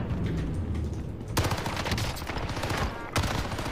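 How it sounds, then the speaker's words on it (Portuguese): Gunfire in the video game Call of Duty Warzone crackles in rapid, dense bursts of shots, with sharper volleys cutting in partway through a steady background of in-game noise. "Ah, tô tomando tiro de todo lado"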